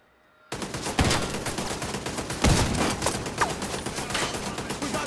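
Gunfire crackles through a firefight in The Division 2, with sharp shots and bursts of automatic fire layered into a dense, continuous barrage after a quiet start, some blasts louder and closer than others.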